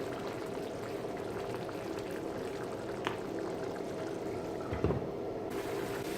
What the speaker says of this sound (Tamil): சிக்கன் வேகிறது இந்த மாதிரி வைக்கணும்